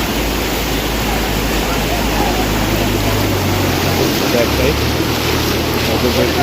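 Strong floodwater current rushes past during flooding in Feni and Cumilla, a loud, unbroken roaring wash of water mixed with wind noise up close.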